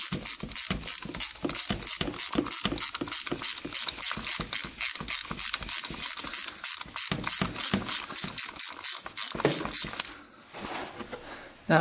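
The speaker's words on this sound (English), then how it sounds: "We've got a filter wrench." Rapid ratcheting clicks from an oil filter wrench loosening the oil filter on a Polaris Scrambler 500 4x4 quad, a steady close run of sharp ratchet strokes that stops near the end, leaving faint handling noise.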